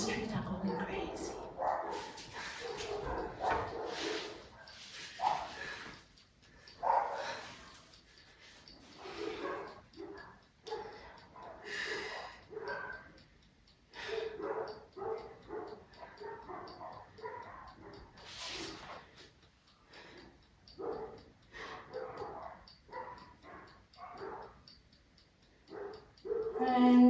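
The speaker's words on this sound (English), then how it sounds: "The dogs on the street are going crazy." Dogs bark and yip out on the street, somewhat distant and intermittent, while a person talks over them nearly the whole time during a home leg workout.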